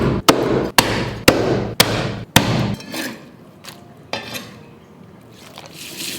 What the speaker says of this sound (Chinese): 鱼头把它给剁一下哈。